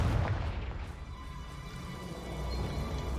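In Hogwarts Legacy, a Confringo explosive spell blast hits with a deep, rumbling boom, then rolls into a sustained low roar with crackling noise that stays loud to the end.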